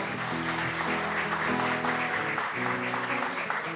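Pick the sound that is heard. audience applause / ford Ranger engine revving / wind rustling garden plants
audience applause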